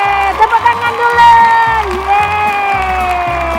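A first-grade class of schoolchildren at an elementary school in Banda Aceh bursts into a short, lively round of clapping and high-pitched cheering, voices and claps mixed close together throughout.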